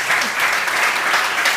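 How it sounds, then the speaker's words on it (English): A short burst of dense audience applause at a startup summit demo stage, a steady loud patter of many hands clapping with no pauses. "Shall we not give them an applause?"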